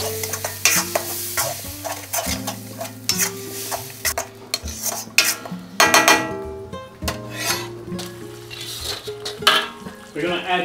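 Tofu sambal sizzling over high heat while being stirred, with busy scraping and clattering of a utensil against the pan, loud and close, under background music.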